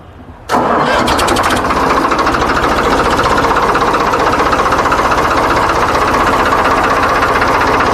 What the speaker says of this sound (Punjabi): ਟਰੈਕਟਰ ਬਹੁਤ ਸੋਹਣਾ ਸੈਲਫ ਸਟਾਰਟ ਹੈ